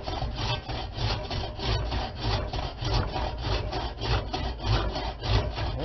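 A one-man bucking saw, a push blade, rasps through firewood in even, rhythmic back-and-forth strokes, loud and close with no talking.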